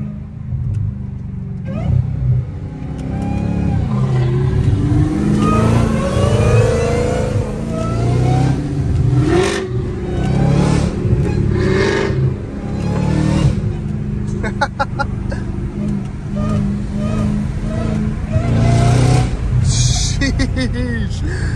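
Loud, sustained engine roar and revving from a Dodge Hellcat Redeye, heard steadily throughout at close range with voices talking over it.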